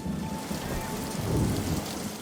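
Steady rain pours down with a low rumble of thunder rolling underneath, continuous and fairly loud throughout.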